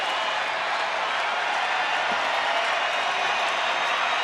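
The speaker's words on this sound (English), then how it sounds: "Crowd making some noise." Dense, steady roar of a baseball stadium crowd cheering and applauding during a Rangers home game against the Angels, a continuous wash of noise from thousands of voices.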